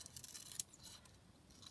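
Scissors snip through a paper picture being cut out for a handmade junk journal: faint, quiet blade cuts, with one sharper snip partway through, set against a soft room hush.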